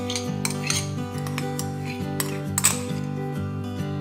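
A spoon clinks and scrapes in a bowl while potato mash is mixed with moong dal for dahi vada filling, a few light metallic taps over a steady tonal background of music.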